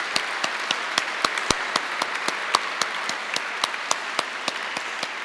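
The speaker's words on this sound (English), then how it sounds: "join me in a round of applause for them" Sparse, scattered clapping at a gala dinner, with distinct individual hand claps ringing out at an uneven rhythm rather than a full ovation, moderately quiet and steady throughout.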